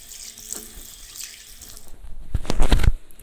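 Tap water runs into a sink during a nighttime skincare routine as the face is rinsed, a steady hiss that swells into louder splashing and gurgling near the end.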